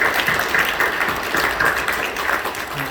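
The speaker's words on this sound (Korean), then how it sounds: "박수로 격려해 주시죠" A church congregation applauding during a worship service, a dense, even wash of many hands clapping that holds steady throughout, moderately loud and without any voice over it.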